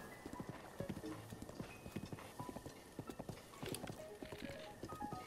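Horse hooves clip-clop at a steady galloping rhythm in Breath of the Wild, a brisk run of close, crisp hoofbeats with game music and ambience underneath.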